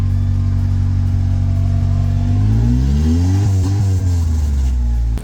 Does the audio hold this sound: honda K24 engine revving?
yes